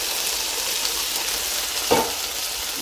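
A pan sizzles steadily as canned diced tomatoes cook for pork carnitas, a constant close frying hiss with one brief louder splash partway through.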